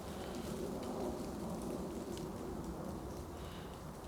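Continuous rainfall hisses and patters evenly throughout, with a low background rumble and no speech.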